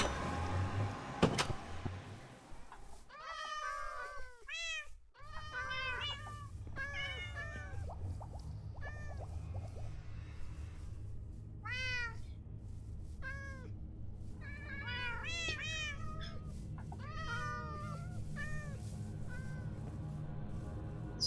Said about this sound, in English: It's a lot of cats.